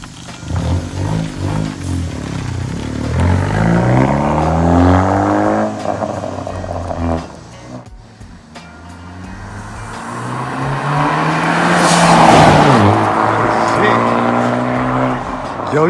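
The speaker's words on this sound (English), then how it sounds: "Now about to see if we can hear some turbo noise." A 2018 Honda Civic Hatchback turbo with a blow-off valve revs and accelerates through rising and falling engine sweeps. A hiss and whoosh build late on, close to the listener, and a voice is heard over it.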